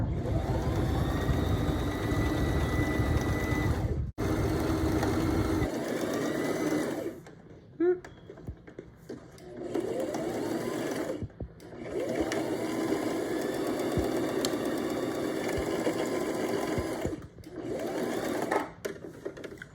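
A sewing machine stitches a party dress with a steady, busy whirring hum, running in long bursts broken by short pauses as the seam is back-stitched and continued.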